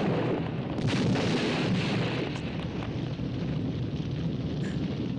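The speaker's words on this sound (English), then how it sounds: "right at that moment, the house blows up" A house blown up as a practical stunt in a 1987 movie gives a loud, sustained roar of blast and rumbling debris, steady and dense throughout with no talk.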